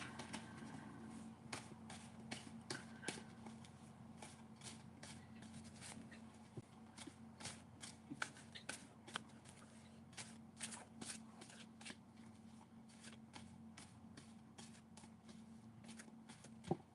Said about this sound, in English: I even shuffled the cards different